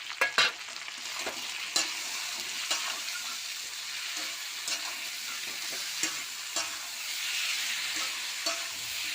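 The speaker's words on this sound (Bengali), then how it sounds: "মশলাটা আমি সব কষে নেবো" Spice paste with salt, turmeric, coriander and chili powder fries with potato and vegetable stems in a pan, a steady close sizzle broken by sharp scrapes and clinks of a spatula, no talking.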